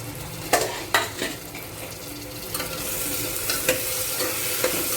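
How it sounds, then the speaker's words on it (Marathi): Onion and tomato sautéing in a pan for pasta, with soft stirring scrapes and a few sharp utensil knocks against the pan over a low, steady sizzle. "कांद्याला थोडं परतून द्यायचं आहे त्यानंतर टाकणार होतो त्याच्यात टोमॅटो"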